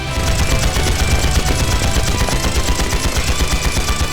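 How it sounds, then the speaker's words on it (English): Heavy, continuous automatic gunfire from a battle cutscene in the role-playing game Trails into Reverie, loud and unbroken with a rapid, steady rattle throughout. "Return fire!"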